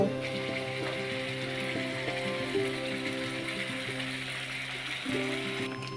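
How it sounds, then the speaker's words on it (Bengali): Ground poppy seed paste going into cooked-down masala in a pan, a constant loud sizzle with a steady mechanical hum and faint clicks running underneath. "মশলা ভালোভাবে কষানো হয়ে গেছে, এইবার বেটে রাখা পোস্ত।"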